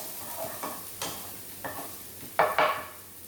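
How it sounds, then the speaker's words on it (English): Onions sweat in a pan for spicy mini pizzas, a soft sizzle broken by a few scraping stirs of a utensil, the last two louder and closer, with no talking. "We are just going to sweat these onions a little"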